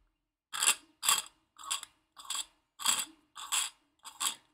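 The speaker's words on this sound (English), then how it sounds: "to get to everything, you just unscrew the handle" A handle twisting off an etched brass lightsaber hilt gives a string of soft metallic ratcheting clicks and scrapes in short bursts, close and quiet with no talk.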